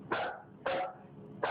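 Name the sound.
dog barking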